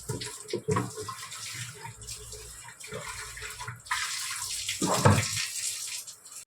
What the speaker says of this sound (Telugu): మొత్తం ఫిల్టర్ మొత్తం కడుగుతాను